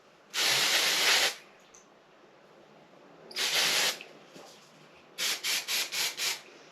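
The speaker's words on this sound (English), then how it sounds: "I spray those bad boys down and I let it sit." Authentic Beauty Concepts Air Texture Spray hisses onto hair from about a foot away: two long steady bursts, then five quick short pumps in a row, close and loud in a quiet room.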